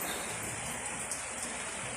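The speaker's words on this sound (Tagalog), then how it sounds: "So ulan nga." Steady typhoon rain patters on a tent close by in the Philippines, a dense continuous hiss with scattered drops, no voices.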